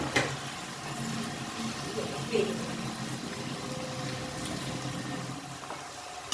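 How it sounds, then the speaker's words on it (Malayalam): Ginger, green chili and garlic sautéing in a pan for a chicken dish, a continuous close sizzle and bubbling frying noise with faint scraping, while someone talks over it intermittently. "ഇഞ്ചി പച്ചമുളക് വെളുത്തുള്ളി അത് വരട്ടമ്മ"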